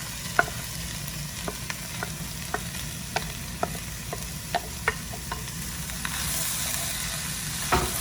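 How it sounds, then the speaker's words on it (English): Corn stirred in a hot pot for Mexican street corn chowder, a steady soft sizzle with a spoon scraping and tapping in a regular rhythm of light clicks, close and alone. "now I'm gonna add in our corn."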